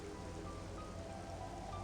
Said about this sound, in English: Honestly, these rain effects look excellent. Look at the way the droplets are falling on your armor,